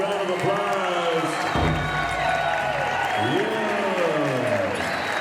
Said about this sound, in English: One more time, ladies and gentlemen, a big round of applause.